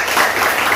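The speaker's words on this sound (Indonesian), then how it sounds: "tepuk tangan" A brief burst of clapping from a group of students in a school classroom, a dense, even patter lasting under a second.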